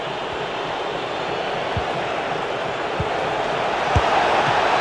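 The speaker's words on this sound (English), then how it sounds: "The crowd certainly think so. Just listen to them." A stadium crowd in the football video game FIFA 22 roars in a steady, broad wash of cheering noise that stays loud and constant, with a few faint thumps underneath.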